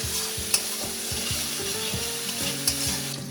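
Ginger and garlic fry in a pan over a constant close sizzling hiss, with a steady patter of stirring strokes and a couple of brief knocks of a utensil, no voices.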